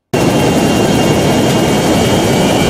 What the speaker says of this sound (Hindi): और वहाँ से एक बड़ा एरोप्लेन भी आ रहा है